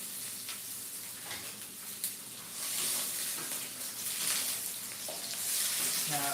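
Chicken stir fry sizzles in a hot pan, a steady crackling hiss that swells a little louder partway through, with occasional stirring clatter and no talk.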